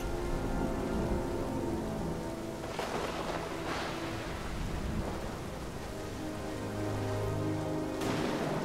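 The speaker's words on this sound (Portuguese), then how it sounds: "Essa tempestade tá osso, tá?" Heavy rainstorm in the video game Smalland, a dense constant downpour with rumbling thunder swelling at intervals, no voices over it.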